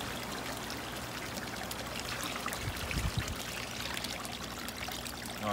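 Couple of cups of water pour steadily into a plastic bag holding a koi, a continuous close trickle and splash that swells briefly midway, with no talking.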